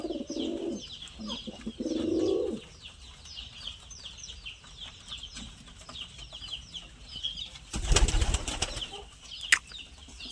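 Fancy pigeons kept at home coo in low, throaty bursts early on, followed by a loud flurry of wing flaps and scattered chirps against a quiet background.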